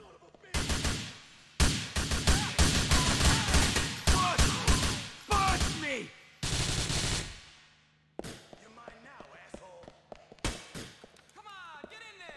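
Video game gunfire comes in loud, rapid automatic bursts, close and dense, broken by short pauses, then thins into scattered quieter shots and clatter toward the end.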